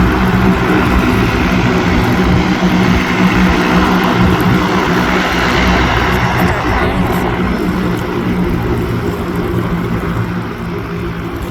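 An airplane flying overhead makes a loud, steady roaring drone for the full eleven seconds, easing off slightly near the end, with no clear talk over it.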